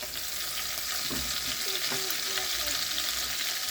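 Tomatoes drop into a hot pot for beef stew with carrots and green pepper, setting off a steady loud sizzle and frying hiss with brief stirring clatter, no talk.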